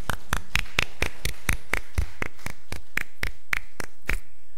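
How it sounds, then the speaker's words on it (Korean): A church congregation clapping in unison at a Sunday worship service, about fifteen sharp, evenly spaced claps at a steady brisk rhythm, close and loud, with no talking. "우리 박수로 우리 하나님께 영광을 올려드립니다"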